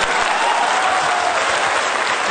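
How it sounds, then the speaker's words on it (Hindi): A crowd at a motivational Vestige marketing seminar gives a loud, sustained round of applause, dense and steady from start to finish with no voices breaking through. "तो चाचा साहब के लिए एक जोरदार ताली"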